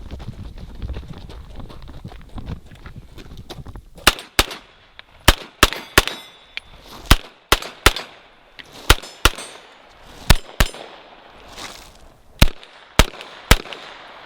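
A NAK-9 9mm carbine firing, about fourteen sharp, loud single shots spaced irregularly, sometimes in quick pairs, after a few seconds of quieter rustling handling noise.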